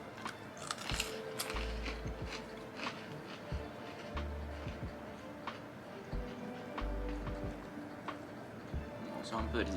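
Crispy barbecue-flavoured potato snacks, like very well-cooked fries, being crunched; repeated close bites and chewing crackles sit under ongoing conversation.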